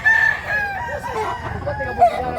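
A rooster crows nearby, one drawn-out call with a short extra note near the end, over faint background noise.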